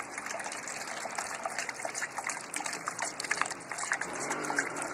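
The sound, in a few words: new coolant pouring into a radiator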